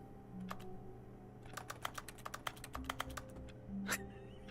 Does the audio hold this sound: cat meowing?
no